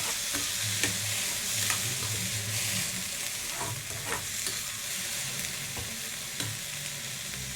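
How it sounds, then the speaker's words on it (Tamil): Onion and tomato sautéing in a pan for chicken curry, a steady sizzle with repeated clinks and scrapes of stirring up close. "நல்லா வதக்கிங்க."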